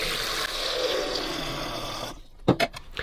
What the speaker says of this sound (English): And fill it up to the max again with cold water.